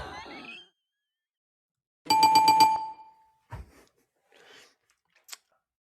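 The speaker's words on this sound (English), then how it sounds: "That bell was for you." A single bright bell rings with a quick rattling strike and a clear ringing tone, followed by quiet breaths and small mouth sounds.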